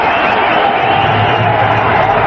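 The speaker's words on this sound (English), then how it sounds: "the Pakistan section of the crowd, they'll all be cheering" The crowd at an India vs Pakistan cricket match roars continuously, a dense, loud wash of cheering beneath a commentator's voice.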